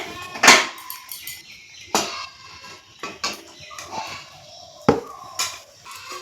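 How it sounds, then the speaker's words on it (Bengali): Steel wok lifted off a gas stove while making mango pudding, giving a few sharp metallic clanks and scrapes spaced across several seconds, fairly close with quiet pauses between, no talking. "এখন আমি কড়াটা নামিয়ে নিচ্ছি গ্যাসটা অফ করে দিয়ে"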